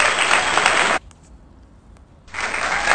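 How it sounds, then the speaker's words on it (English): Applause sound effect, a burst of crowd clapping that cuts off abruptly after a second, leaves near silence, then resumes at full level. "So we're just adding applause"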